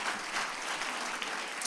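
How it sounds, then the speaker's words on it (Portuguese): A church congregation applauds during a worship service, a dense, even patter of many hands clapping close by for the whole moment. "a igreja possa aplaudir a vida do nossa"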